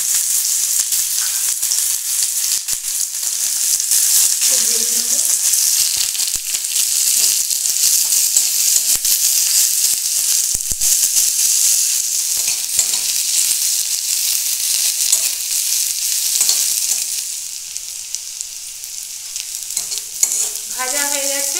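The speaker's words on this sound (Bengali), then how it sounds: "তেলে দিয়ে দিচ্ছি 5টা রসুন, আর এখানে একটা বড় সাইজের পেঁয়াজ দিয়েছি" Five garlic cloves and a large onion fry in mustard oil in a kadai, a continuous close hiss and sizzle broken by repeated scraping stirs of a spatula.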